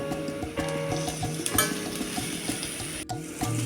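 Chopped onion and carrot sauté in a pan for an egg soup, a continuous sizzle broken by repeated scraping stirs, close up with no talking.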